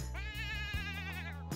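A goat in The Sims 4 farm game bleats while being milked, giving one long, wavering, nasal cry that is loud and close, backed by a steady game soundscape.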